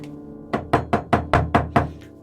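Seven firm knocks on a wooden door, evenly spaced in a quick steady rhythm, close and fairly loud, with no voices.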